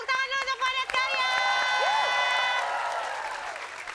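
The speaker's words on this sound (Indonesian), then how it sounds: "tepuk tangan dulu untuk Padat Karya" Audience applause and cheering at a live Indonesian comedy stage show, a dense burst of clapping and crowd noise with shouted voices and a rising whistle-like tone over it, fading slightly toward the end.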